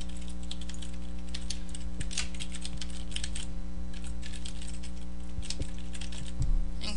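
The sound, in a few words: typing account information on a computer keyboard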